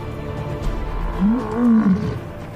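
A pride of African lions gives out deep, rumbling roars, one drawn-out, rising call followed by a longer, swelling roar, loud and close over a soft outdoor background.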